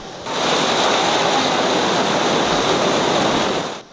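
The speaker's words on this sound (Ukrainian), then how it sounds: "майже весь другий тайм футболістам довелося грати під страшною зливою." Heavy rain pouring down on a football pitch during a match: a loud, dense, steady hiss of falling water, close and continuous throughout, with no voices.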